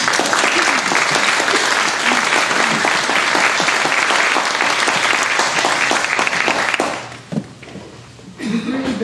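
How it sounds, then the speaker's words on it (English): A church congregation claps in loud, sustained, dense applause for several seconds, which then thins out and fades to a few scattered claps. "Give yourselves a round of applause."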